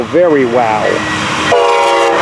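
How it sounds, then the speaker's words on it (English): A person exclaims excitedly, then a passing train sounds a long, steady horn close by. "Here they come. It's the blue train."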